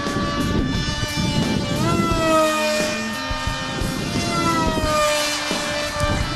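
A scratch-built foam RC fighter jet with a small 2200-size motor and 6.4 prop flies overhead, its steady electric whine rising and falling in pitch as it passes and maneuvers, loud and continuous throughout.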